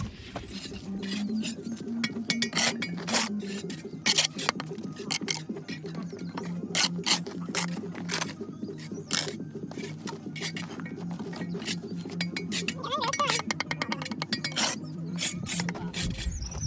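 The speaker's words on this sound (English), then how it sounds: "Hold it down and just whack it with your trowel, and then that will lay flat." A trowel taps and scrapes against bricks during a bricklaying lesson, giving a string of sharp, close clinks and knocks at an uneven rhythm over a low steady hum.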